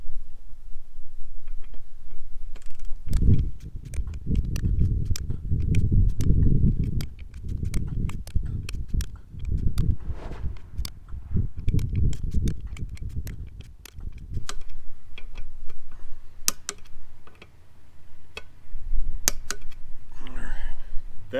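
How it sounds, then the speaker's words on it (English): Beadlock wheel bolts tightened one after another with a torque wrench to about 23, giving a steady run of sharp clicks and ratcheting taps close by over a low rumble, with no talking. "Now you can go to torquing your bolts to manufacturer's recommended torque setting."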